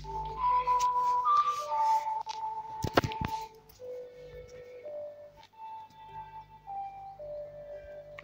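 Melodic whistled tones from Zelda: Ocarina of Time rise and fall in a short tune, steady and fairly loud, with a burst of clattering noise partway through and faint voices underneath.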